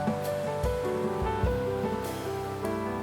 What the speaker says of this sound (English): The sound of waves in the distance.